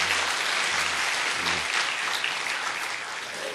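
Guests being welcomed at a Korean church service, greeted by a brief, steady round of audience clapping, moderately loud and alone, tapering slightly toward the end.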